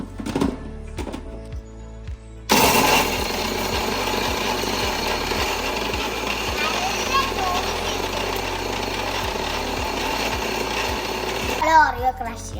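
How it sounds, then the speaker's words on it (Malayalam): A kitchen blender crushing Oreo biscuits for a simple dream cake starts abruptly and roars loudly and steadily for about ten seconds. It is preceded by a few light knocks and handling sounds. "ഇനി ഞങ്ങൾ ബ്ലെൻഡ് ചെയ്യാൻ പോവാ."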